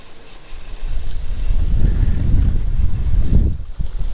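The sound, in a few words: strong wind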